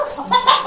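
An Aseel rooster lets out a short burst of close, loud clucks, a few quick notes in under a second.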